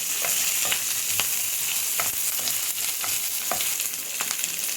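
Onion sautés in a pan over green chili and garlic, a loud, continuous crackling sizzle with irregular scraping stir strokes cutting through every second or so, close up and with no talking.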